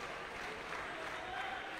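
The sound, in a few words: crowd applauding at climbing competition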